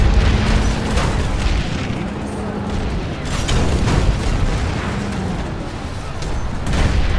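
Grenade and heavy weapon blasts in a Planetside 2 battle near a tank: a continuous loud rumbling wash of booms and explosions with low engine drone and little distinct speech.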